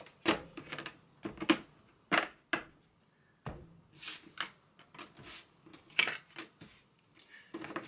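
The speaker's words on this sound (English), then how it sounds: "I'm just gonna cut the deck here." A tarot deck being cut and handled close up: a run of crisp, papery card snaps and riffles in uneven bursts, with short quiet gaps between them and no talking.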